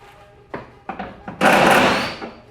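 A cordless impact wrench with a 12mm socket removes a bolt from a car's underside, with a few short clicks and bumps followed by a loud burst of rattling hammering that dies away within about a second.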